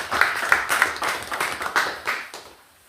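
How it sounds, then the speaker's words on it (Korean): A small gathering at a Buddhist Dharma talk claps together, the rhythm of individual claps loosely audible, close and moderately loud, then dying away to silence. "박수 한번 칩시다"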